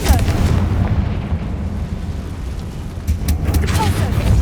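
A Confringo blasting curse in Hogwarts Legacy lets off a loud, low rumbling boom that rolls on through the clip, with dense crackling bursts and a sharper pop toward the end.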